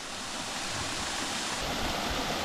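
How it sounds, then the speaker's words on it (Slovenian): A small waterfall cascades at the karst spring of the Miljacka, giving a steady, even rush of falling water that fills the whole stretch without pauses. "O, kakšen čudovit slapič."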